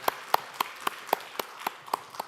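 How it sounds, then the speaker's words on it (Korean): Church congregation at a Sunday worship service clapping together, about ten slow, evenly spaced claps, fairly faint and with no voices over them. "하나님께 영광의 박수를 올려드립니다"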